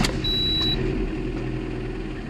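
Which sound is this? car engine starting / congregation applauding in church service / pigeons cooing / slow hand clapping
car engine starting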